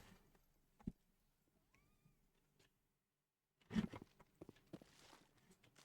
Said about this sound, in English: Just heard a mew from my feet.